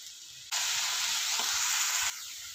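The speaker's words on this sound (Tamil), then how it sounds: "நம்ம மஷ்ரூம்ஸ் இன்னும் கொஞ்சம் வதங்கிடும்" Mushrooms with turmeric and salt are sautéed in a pan. A sudden loud burst of hissing sizzle lasts about a second and a half, then drops back to a quieter background.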